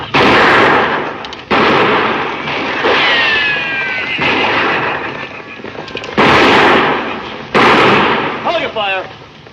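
Gunfire in a 1958 western film: several loud, sharp shots crack out at irregular intervals over a busy background with raised voices and shouting.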